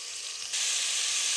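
Ash gourd pieces drop into a hot pan of popped mustard seed tempering, and a soft sizzle jumps into a loud, steady frying hiss close by, with no voices.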